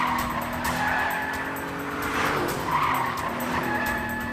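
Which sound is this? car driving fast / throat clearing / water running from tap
car driving fast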